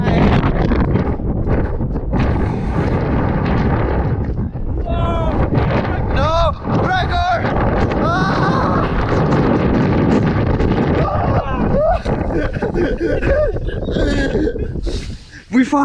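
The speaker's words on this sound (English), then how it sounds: "It's a bit windy." Strong wind buffets the microphone throughout with a constant roaring rumble, while people talk and shout over it.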